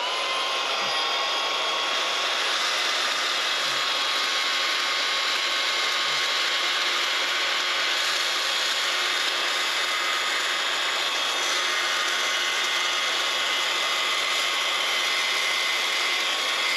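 A Milwaukee portable bandsaw clamped in a vise cuts a circle from a workpiece, a steady high whirring whine that runs loud and unbroken throughout, with faint low knocks underneath.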